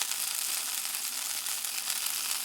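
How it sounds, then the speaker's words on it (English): Cheese sizzles on a tortilla wrap heating in a toaster oven, broiler or small skillet, a steady close hiss of crackling fat with no talk. "Listen to that sizzling cheese"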